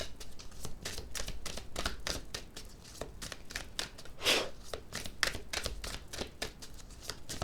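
Tarot cards are shuffled and handled, a long run of quick, crisp riffling and flicking strokes close up, with a brief louder swish midway and no talking.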